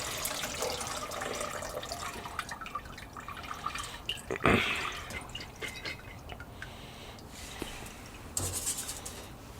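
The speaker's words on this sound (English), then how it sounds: "We're going to empty it out. Let it drain really well." Water drips and trickles as soaked homegrown bean sprouts drain in a kitchen container, a soft steady patter with one louder splash midway and another gush near the end.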